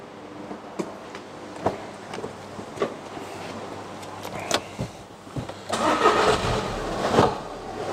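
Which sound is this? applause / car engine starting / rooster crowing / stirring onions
car engine starting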